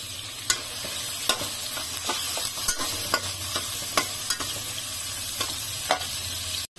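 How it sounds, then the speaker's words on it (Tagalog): Garlic and shallot are stir-fried with shrimp in a hot pan, with a constant bright sizzle and regular sharp clicks of the spatula against the pan, close and steady without talk. "stir-fry garlic and shallot"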